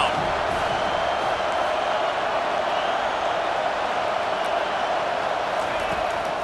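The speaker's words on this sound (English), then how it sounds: "Decibels rising as the crowd gets behind this defense on 3rd down." A football stadium crowd roars for the defense on third down at a Michigan at Penn State game. The loud, constant wall of noise holds steady throughout without breaks.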